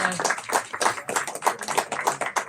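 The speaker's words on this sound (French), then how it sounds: "On peut l'applaudir, c'est vrai" Close, moderately loud applause from a small audience at a Parisian literary café, hand claps in an uneven rhythm with some tapping quality, lasting the whole stretch.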